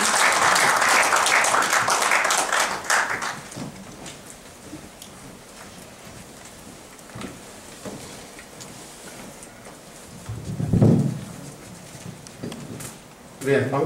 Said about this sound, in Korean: 뜨거운 박수로 맞이해 주시기 바랍니다